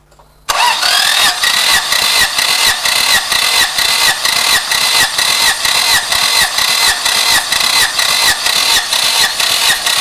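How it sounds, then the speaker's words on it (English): An engine cranks with the throttle valve held fully open during a compression test, the starter whirring in a steady rapid pulsing rhythm after a brief silent start, loud and close, continuing without catching or speech. "So let's start the engine while the throttle valve is fully open."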